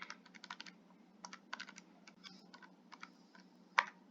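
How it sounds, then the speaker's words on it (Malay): Calculator buttons are tapped in quick, irregular clicks at close range, with pauses between runs of presses and one sharper press near the end. "Tekan kalkulator."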